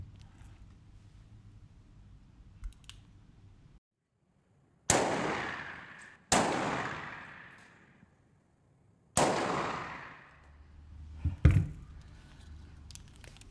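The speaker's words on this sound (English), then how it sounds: "it's always been a childhood fantasy of mine to fire the .44 Magnum" Three loud, sharp reports from a .44 Magnum revolver, each followed by a long ringing decay, spaced a second or three apart over a low background hum, with a faint metallic clink afterward and no talking.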